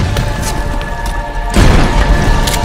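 An explosive grenade blast lands partway through, a loud deep boom and rumbling crash that swells out of a steady low background noise and lingers to the end.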